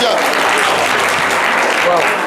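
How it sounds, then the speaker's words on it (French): Studio audience clapping on a live French-language variety show, a continuous, loud, evenly textured roar of applause with a few faint voices mixed in. "On peut l'applaudir encore très très fort"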